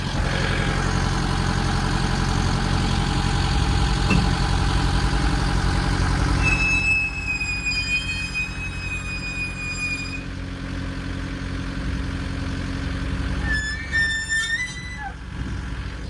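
A skid steer engine runs steadily nearby with a low, continuous idle drone, joined partway through by high thin squealing tones that come and go over the rumble.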